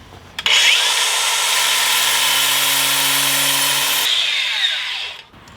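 An angle grinder cuts a slot in brick with a loud, steady, harsh whine and grinding rasp, close up, for about four seconds before it spins down.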